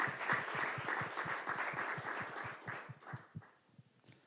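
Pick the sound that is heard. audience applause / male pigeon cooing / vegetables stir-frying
audience applause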